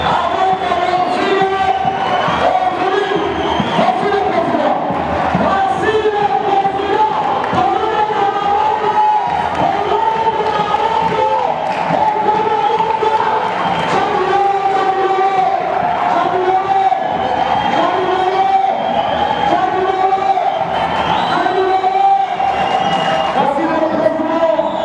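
A large crowd at a party gathering in a hall roars and cheers continuously for the arriving party president, a dense, steady wall of voices and clapping at full volume with no pauses.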